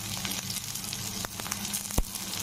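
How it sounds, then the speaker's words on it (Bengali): Curry leaves, chopped tomato, turmeric and red chilli powder sizzle in oil in a pan, a steady close crackling hiss with small pops throughout. "এবার ওগুলো অল্প ভেজে নিচ্ছি।"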